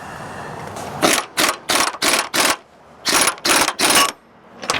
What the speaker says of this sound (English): Let's go ahead and use the puller on it since we have the puller.